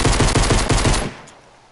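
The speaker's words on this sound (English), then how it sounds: "I can probably hear his gun." Rapid machine gun fire in a video game, a loud burst of evenly spaced shots for about a second that then cuts off, leaving a fading tail with no talk.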